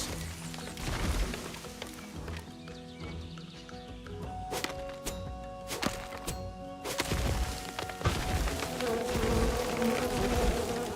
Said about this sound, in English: Not the bees again, man.